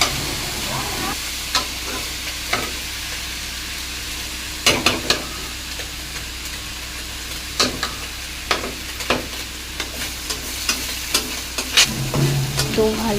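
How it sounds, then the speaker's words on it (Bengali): Chopped banana flower fries in a pan with oil, a continuous soft sizzle broken by repeated sharp scraping clicks as a spatula stirs it, close up and steady throughout. "তো ভালো করে এটাকে কষিয়ে নেব একটুখানি।"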